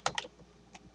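A few quick, close keystrokes on a computer keyboard while typing C++ code, two sharp clicks and then a softer tap, faint and isolated.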